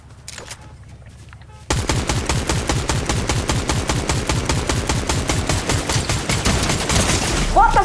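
Rapid automatic gunfire in Fortnite, a dense, loud stream of shots that keeps going for several seconds after a quieter opening with faint voices.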